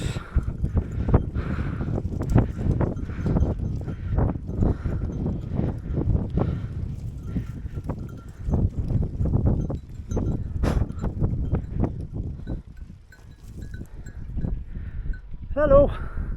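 Repeated hoof clatter and shuffling of several goats moving nearby on the Greek island of Kalymnos, with scattered bell-like clanks and a bleat near the end.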